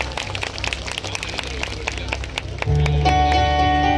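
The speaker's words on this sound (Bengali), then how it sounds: "জোরে করতালি।" Audience applause at a stage program, a dense crackle of many hands clapping mixed with crowd voices, fairly loud and close, before music swells in and takes over near the end.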